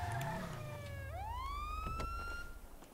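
In the video game GTA, a police-style siren falls, then sweeps sharply back up into a sustained wailing tone over a deep, continuous vehicle engine drone.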